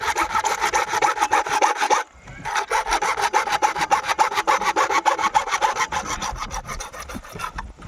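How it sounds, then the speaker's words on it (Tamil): A hand saw cuts through a PVC water pipe in fast, even back-and-forth strokes, close and rasping, pausing briefly once before the rhythmic sawing resumes. "அறுக்கிறப்ப நேருக்கு நேராக பார்த்துக்கோங்க ஃப்ரெண்ட்ஸ்"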